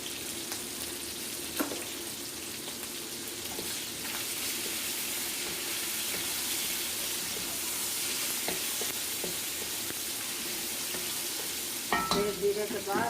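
White cumin seeds sizzle and crackle steadily in hot oil for a desi pulao, a continuous close frying hiss with a few stirring clinks and a brief louder clatter near the end.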